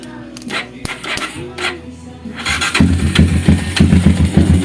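A Bajaj Rouser 180 motorcycle with a faulty relay is cranked and its engine catches, settling into a loud, steady mid-pitched idle after a couple of seconds of starter effort, close to the microphone.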